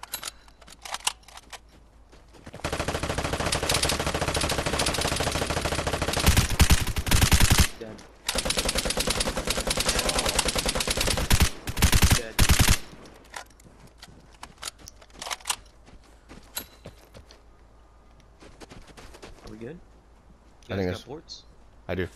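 Rapid machine gun fire from a video game rattles in long sustained bursts, loud and close, with players talking over and between the volleys.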